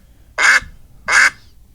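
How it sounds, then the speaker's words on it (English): A hen mallard duck gives two loud, close, raspy quacks, evenly spaced about three quarters of a second apart, over a quiet outdoor background. "That's a hen mallard."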